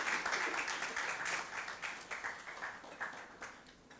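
Audience applause at a legal reform event on violence against women, a sustained ripple of many hands clapping that gradually thins and fades toward the end.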